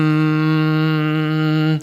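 A person sustains a steady, buzzy hum with their voice, imitating the drone of a transformer or heavy machinery, held evenly for under two seconds.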